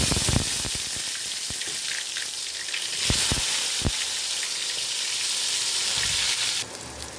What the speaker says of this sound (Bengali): তো বেগুনটা আগে একটু ভেজে নেব নুন হলুদ মাখিয়ে